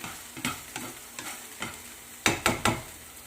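Sardines and egg fry in a pan while a utensil stirs them, giving a row of distinct scraping knocks, closer and louder toward the end, over a quiet sizzle.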